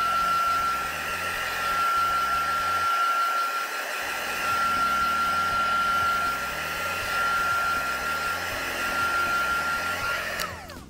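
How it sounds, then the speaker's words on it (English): A heat gun blowing over a freshly inked backing card from gel plate printing, giving a steady loud whooshing roar with a thin whine that runs throughout and cuts off at the end. "We're just going to run over that with the heat gun and just make sure it's really dry."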